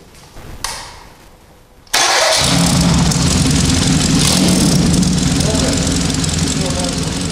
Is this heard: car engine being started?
yes